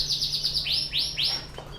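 A Yorkshire canary sings close by, a series of bright rising whistled notes and quick repeated chirps forming a short rolling phrase, loud and clear without talk.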